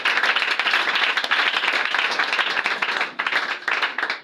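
A church congregation applauds and cheers, with loud continuous clapping that swells across the whole stretch and dips briefly near the end before picking up again.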